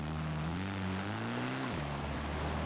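Engine of a 2016 Abarth 695 Biposto in Forza Horizon 4, a steady, loud droning hum that rises slightly, holds, then dips back to idle.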